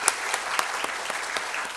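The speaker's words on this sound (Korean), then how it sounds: "이분들 환영하는 마음으로 우리 한번 박수 한번 하겠습니다." A church congregation at a gospel meeting claps together to welcome first-time visitors: dense, steady applause with a few sharper individual claps standing out, close and fairly loud, with no talking over it.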